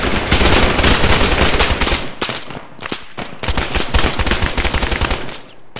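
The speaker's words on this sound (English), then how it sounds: "he's shooting at us now" Rapid bursts of automatic gunfire from an Arma military-sim game battle, loud and close, with sustained rattling volleys broken by short pauses and no talk over it.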